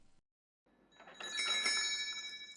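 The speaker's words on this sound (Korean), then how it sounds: "문에 달린 종소리가 울렸어요." A bell hanging on a door rings as the door opens, a bright shimmering jingle that swells after a brief silence and lingers, ringing out clearly on its own.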